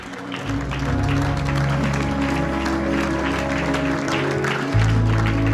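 Church congregation applauding and cheering for the Lord, a steady broad wash of clapping over low sustained music that swells louder near the end.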